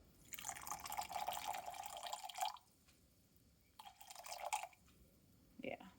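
Water pours into a container of lye for homemade soap: a steady splashing stream for about two seconds, a pause, then a shorter second pour, close and clear.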